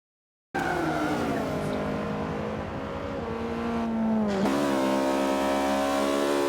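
Race cars roar through a midfield battle in a DTCC touring-car race in Forza Motorsport 5: a loud, close engine whine climbs steadily in pitch, dips briefly at a gear change, then rises again, with no voices over it.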